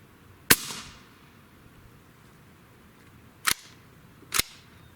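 Three sharp shots from an AEA Megalodon air rifle, each a crisp crack: one near the start with a short tail, then two more close together a few seconds later, over quiet background.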